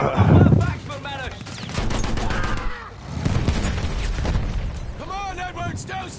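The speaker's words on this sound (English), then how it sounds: "Was that tank firing at me?" A tank in Steel on Steel fires a heavy, booming shot near the start, followed by rumbling battle noise and further gunfire, with people talking excitedly over the action.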